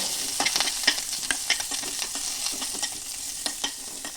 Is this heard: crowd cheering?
no